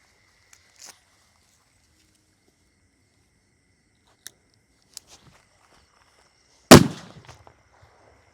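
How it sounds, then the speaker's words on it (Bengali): A chocolate-shaped bomb firecracker set off for Diwali bursts once in a single sharp, loud bang that fades quickly, after a few faint scattered clicks and taps in otherwise quiet surroundings. "তো গাইস, দেখতেই পাচ্ছ ধামাকাটা কেমন হলো।"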